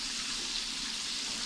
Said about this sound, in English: This thing's frying up real good.